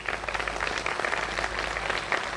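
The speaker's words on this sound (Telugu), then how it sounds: "క్లాప్స్ ఇవ్వండి." Audience applause at a members' convene fills the space steadily throughout, dense overlapping clapping at moderate volume with no break.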